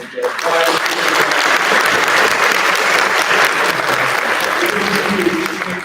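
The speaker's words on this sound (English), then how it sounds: "let's give them a nice round of applause" Sustained audience applause at a high school parent orientation, a dense steady wash of clapping from a large crowd with voices mixed in.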